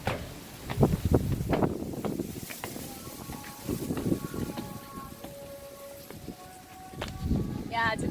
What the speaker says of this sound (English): it's a bit of a windy evening